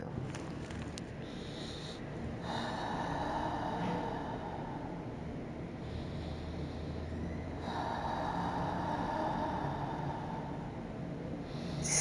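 Slow, deep breathing during a guided hypnosis session, long airy inhales and exhales in two swelling waves, close and steady over a constant low hum with no talking.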